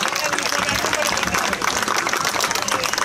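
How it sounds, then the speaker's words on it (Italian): Applause at an amateur football memorial match, dense clapping from a crowd, fairly close and continuous, with a voice talking over it. "Facciamo un applauso alle prime due squadre"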